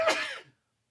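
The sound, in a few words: sneeze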